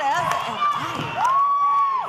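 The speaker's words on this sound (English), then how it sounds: "Listen to this raucous crowd" A raucous wrestling crowd at Hot Point Davis Arena in Kentuckiana roars and cheers, with sharp whoops and shouts rising above a continuous loud din.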